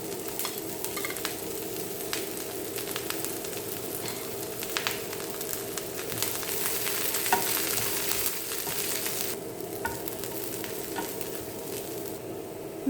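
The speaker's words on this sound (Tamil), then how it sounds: "இப்போ வந்து இந்த எண்ணெயில் பிரண்டை போட்டு வறுத்துக்கலாம்" Adamant creeper (pirandai) frying in oil for a spice powder, a steady, dense sizzle with faint stirring clatter throughout, close and even, with no voices.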